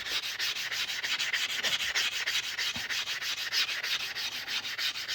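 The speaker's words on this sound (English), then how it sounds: "The scraper's called a deburring tool." A deburring tool scrapes in a steady, hissing rasp made of quick rhythmic back-and-forth strokes, close and continuous, with no voices present.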